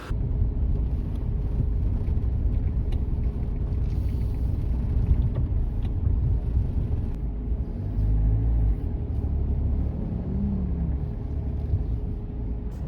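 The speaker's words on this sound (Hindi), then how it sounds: "देखो हाइलक्स होने का फ़ायदा देखो, रोड तो इधर वैसे भी नहीं है, बट ये देखो कहाँ आ गए, पूरा खेत के अंदर।" A Toyota Hilux drives off-road through a farm field, its engine a steady low rumble with bumping and jolting running continuously throughout.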